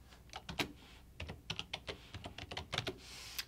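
Someone types a short name on a computer keyboard: about a dozen quick, irregular key clicks, close and fairly soft, with no talking.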